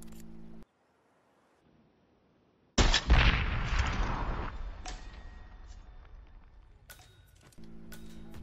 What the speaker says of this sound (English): Take aim at our propane cylinder. And take 2 shots at it.